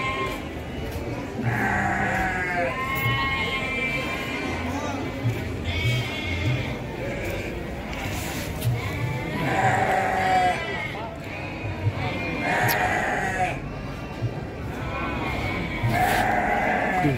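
Garut sheep bleat repeatedly at a livestock market, many wavering calls close and farther off, overlapping against a busy crowd murmur.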